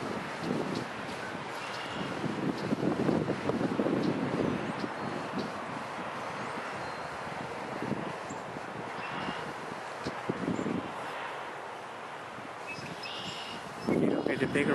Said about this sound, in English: Nice spring morning, very chilly and windy.